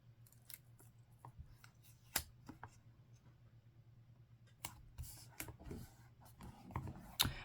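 Scissors trim paper for a handmade composition notebook in a few faint, scattered snips and rustles, close but quiet, with no talking.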